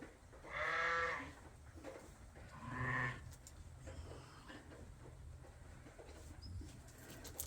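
Lambs in a farm pen bleat twice in loud, close calls, then settle into a quieter stretch of faint shuffling and distant farmyard noise.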